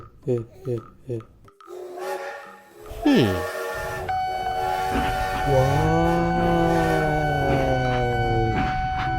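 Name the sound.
train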